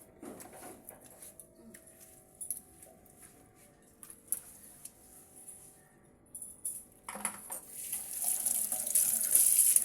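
A tap runs as groceries are washed, with a faint, intermittent trickle and splashing that swells into a louder, steady stream of running water near the end.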